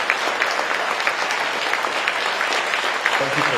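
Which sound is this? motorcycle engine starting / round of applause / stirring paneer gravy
round of applause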